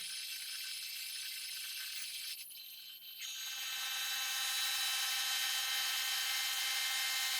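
A drill whines steadily as it bores an 18.5 mm hole into a metal disc, a continuous high grinding noise that briefly dips then runs on louder, with no voices.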